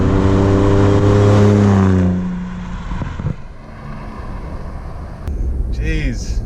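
A turbocharged Ford Raptor pickup truck accelerates from inside the cab, its engine note climbing loudly for about two seconds before easing off as people talk and react excitedly.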